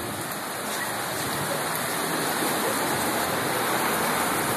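Heavy rain with floodwater rushing through a street in Itapuã, Federal District, Brazil, water over a metre deep; a steady, loud broadband roar of pouring, gushing water fills the whole clip without letting up.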